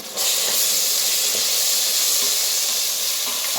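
Chopped onions sizzle in a hot pan while frying for a keema (minced mutton) curry, a steady loud hiss that starts abruptly and continues evenly throughout with no talking.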